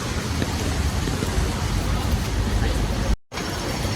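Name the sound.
heavy rain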